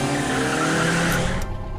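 A car drives and skids with squealing tires, a loud continuous roar that cuts off sharply near the end, used as an effect in an audio drama.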